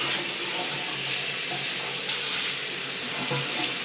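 Cold water running steadily from a tap onto a wig, a continuous loud broadband splash and hiss that holds throughout with no voice over it.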